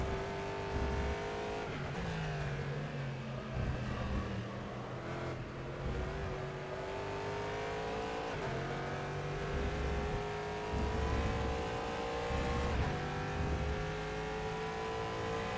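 A single-seater race car engine in rFactor 2 drones steadily at high revs, its pitch sliding up and down through gear changes and corners, loud and continuous with a low rumble beneath.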